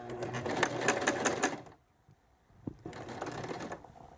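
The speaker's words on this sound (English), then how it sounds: "we're going to go ahead and start on one end of our buttonhole that we marked with the wide zigzag, and we'll just sew a few stitches like that." Sewing machine stitching a wide zigzag buttonhole: a close, fast, steady mechanical whirring of stitches for about a second and a half, a brief pause with a small click, then the stitching resumes.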